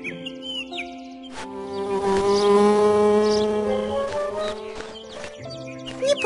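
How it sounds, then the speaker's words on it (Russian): A cartoon bee from the children's animated series Luntik buzzes while gathering nectar, a steady droning hum layered with bright musical tones that swells in the middle and fades, with no talk over it. "Сейчас пчеленок снова будет собирать нектар."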